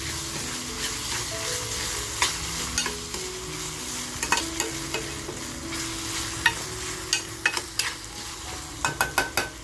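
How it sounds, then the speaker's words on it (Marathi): Small karandi shrimp frying in a pan, a low steady sizzle under a spatula scraping and clinking against the pan in sharp taps that grow more frequent toward the end. "हा बघा छान असं आपली करंदी फ्राय झाली आहे"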